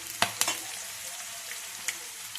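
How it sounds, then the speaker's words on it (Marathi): Green chillies frying in hot oil for a karela bhaji, a steady close sizzle with a few sharp crackles and pops. "मिरच्या चांगल्या तळून द्यायच्या, म्हणजे काय होतं, तिखट लागत नाही."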